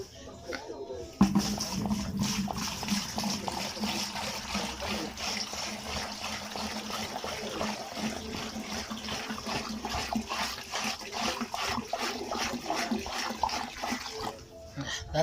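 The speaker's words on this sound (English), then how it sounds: "Just going to pour water and see if it's leaking or so." Water pours steadily into a 20 L water boiling kettle, a continuous close splashing and trickling rush that starts abruptly and runs for several seconds, with some faint background noise.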